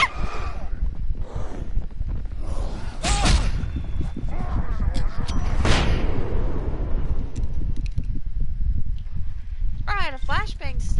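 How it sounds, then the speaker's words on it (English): A flashbang goes off with a sharp burst in the Alan Wake video game, among other bangs and rumbling effects, with someone talking over it. "Oh, I had a flashbang still."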